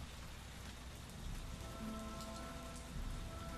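Heavy rain pouring down steadily in a dense, continuous hiss of drops, loud and close, swelling slightly midway, with no voices over it.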